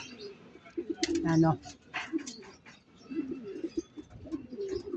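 Racing pigeons, light checkered birds arriving back at the loft after a 90 km training race, give soft, low cooing calls close by, interleaved with someone talking throughout.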